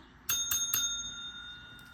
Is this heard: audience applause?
no